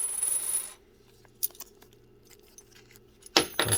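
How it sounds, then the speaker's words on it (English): A silver Barber quarter drops onto a hard surface with one bright, ringing metallic clink. Faint clicks follow in near silence, and a louder rattle comes at the end. "When you hear that sound, you know it's silver."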